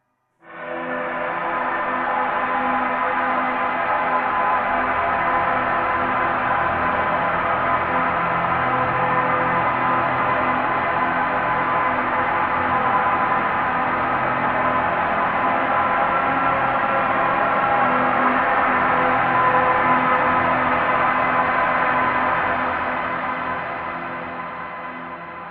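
Traffic noise run through an elaborate reverb pedal setting becomes a smooth, sustained wash of tone with a soft, droning quality, swelling in, holding steadily, and slowly tapering away.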